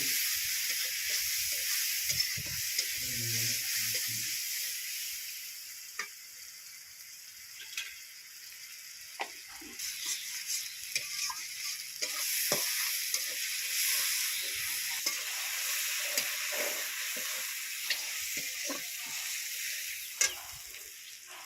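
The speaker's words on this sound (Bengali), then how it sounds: "দিয়ে খুব সুন্দর করে নেড়ে চেড়ে নিয়ে কিছুক্ষণ ভেজে নিয়েছি" Leafy greens with salt, turmeric and chilli powder fry in a pan, giving a steady close hiss and sizzle with occasional scrapes and clicks of stirring throughout.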